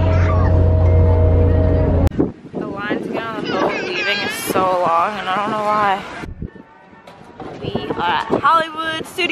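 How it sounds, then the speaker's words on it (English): Heavy wind buffets the microphone with a deep, steady roar at Disney's Hollywood Studios, then drops away as voices and a busy crowd take over. "It's very windy, right?"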